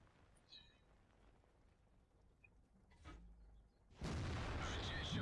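Hummel artillery shell striking a T95 tank in World of Tanks, a sudden loud burst of impact noise after a quiet stretch with a faint thud just before it.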